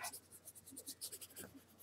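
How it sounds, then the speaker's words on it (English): Pencil held on its side shading on paper: soft, quiet scratchy strokes in a quick uneven rhythm, close and faint. "keep your pencil on its side so you get that nice shade"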